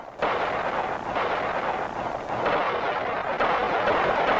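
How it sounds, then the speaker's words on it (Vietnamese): A fierce artillery suppressive barrage during the 1968 battle of Lang Vei near Khe Sanh produces a continuous, heavy roar of overlapping blasts, loud and unbroken for the whole stretch. "23 giờ 30 phút, pháo binh bắn chế áp dữ dội."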